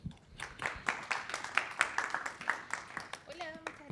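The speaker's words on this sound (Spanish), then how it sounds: "démosle una ronda de aplausos a Riva Quiroga" An audience at a technical talk gives a short round of clapping, moderately loud and roomy, fading out after a few seconds as a voice begins speaking.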